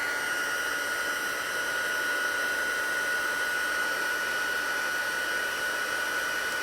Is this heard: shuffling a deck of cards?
no